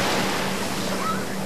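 Ocean surf at Coney Island beach in 1988, a steady close roar of breaking waves with wind rumble against the microphone, continuous and fairly loud.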